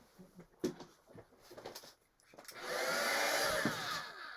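A heat tool starts up and blows with a steady, loud whooshing hum to heat set an alcohol ink painting, following a few quiet taps and handling noises.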